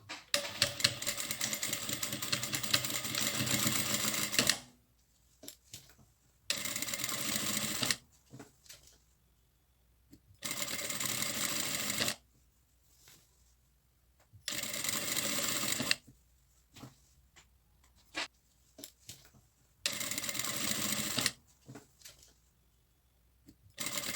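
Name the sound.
sewing machine stitching a drawstring backpack bag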